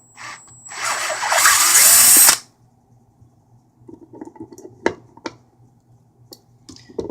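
A handheld power drill whirs loudly for about two seconds, its chuck not tightened enough, then stops, followed by scattered clicks, taps and handling noise on a workbench.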